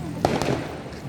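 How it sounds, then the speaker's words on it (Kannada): Firecrackers go off at a village temple fair in Kundhuru: two sharp, close pops in quick succession over a busy background. "ಪಟಾಕಿ"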